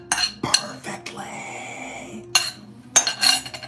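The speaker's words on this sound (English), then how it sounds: "I'm moving that into this little bowl." Utensils clink and scrape against dishes as food gets moved into a small bowl in a kitchen, a few sharp metallic taps and clatters with brief pauses between them, close by.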